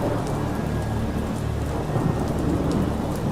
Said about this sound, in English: Just the rhythmic patter of rain against the pavement.